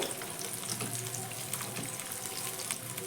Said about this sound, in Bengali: এইভাবে গরম তেল প্রত্যেকটার উপর আমি এইভাবে দিয়ে দিচ্ছি